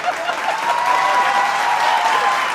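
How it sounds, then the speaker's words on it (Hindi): Audience applause fills the hall during a Hindi satirical political show, a steady, dense clapping that holds at full strength throughout with a faint crowd murmur beneath. "मेरे सम्मान में जोरदार ताली बजा"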